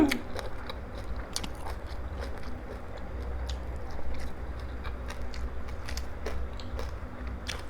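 Crispy pork cheek is chewed close-up, with a steady run of crunching bites and crackly snaps against a low background hum.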